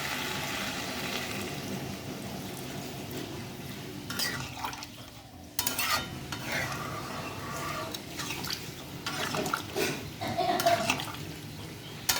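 Water splashes and trickles into a hot pan of murighonto, a steady liquid rush with drips and occasional clinks of cookware, fairly close and with no talking.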